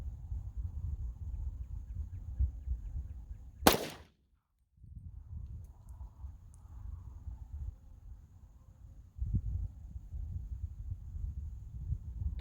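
A Glock 33 pistol firing 357 SIG Hornady XTP 147 grain rounds, one sharp loud shot followed by a dropout of sound, then low outdoor rumble and a fainter second report later.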